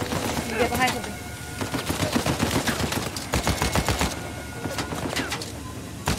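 Gunfire in the video game Uncharted 4 crackles in a busy, fairly quiet stream of irregular shots mixed with other game sounds.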